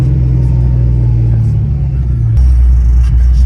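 A supercharged 1993 Fox-body Mustang 5.0 with a Bassani X-pipe and MagnaFlow mufflers gives a loud, heavy exhaust rumble. The drone stays constant, with a sudden shift in tone partway through.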